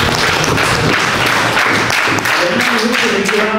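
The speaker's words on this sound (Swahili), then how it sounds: "Hivi makofi ni vidogo sana" Audience at a Burute SACCOS meeting claps in a dense, steady round of applause, close and loud, with a voice speaking over it.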